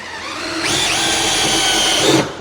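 A cordless hammer drill on its tenth torque setting whirs up to speed and runs steadily for about two seconds, close and loud, then winds down abruptly.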